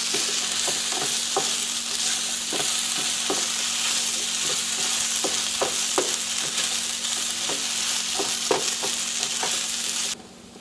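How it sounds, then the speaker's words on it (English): Potatoes fry in a pan with a steady, close sizzle and crackle, punctuated by regular scraping taps of stirring, with no voices until the sizzle drops away at the very end. "We got some potatoes frying up here."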